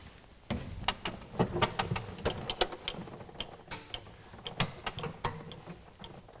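The handle of a stainless steel manual drum rotating forklift attachment being turned, a steady run of close mechanical clicks and creaks like a ratchet, with no voices.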